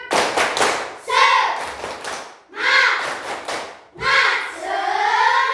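Rhythmic group clapping of the Indonesian tepuk semangat ice-breaker, a crowd clapping in patterned bursts with chanted voices between them, loud and close, in three distinct rounds.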